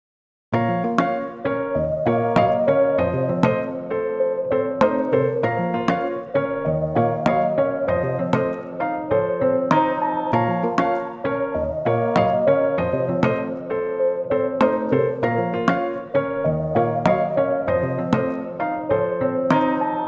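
A dancehall beat built from Serum synth plucks with a countering melody loops continuously, bright rhythmic plucked notes repeating in a steady pattern, with no voices over it.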